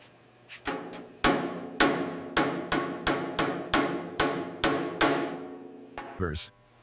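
Metal body panel of a 1926 Bentley Speed Six tourer being hammered to work out dents, a close series of about a dozen ringing metallic blows in a fairly steady rhythm, ending with a brief scrape.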